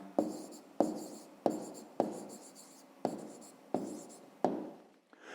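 Pen strokes scratching across paper while working a fifth-grade math exercise, seven distinct bursts of writing in steady succession, close and clear with no talk.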